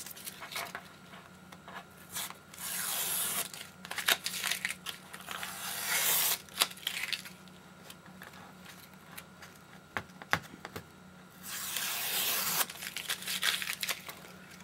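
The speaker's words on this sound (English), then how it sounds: "let me go ahead and peel it off" Paper being peeled away from a watercolor ornament card, giving soft crinkling and tearing bursts in several slow pulls, close and quiet, with no talk.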